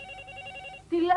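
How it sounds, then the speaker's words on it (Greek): An old-style telephone bell ringing steadily and clearly, then cut short as a voice comes in near the end. "Τηλέφωνο. Το άκουσα. Σήκωσέ το."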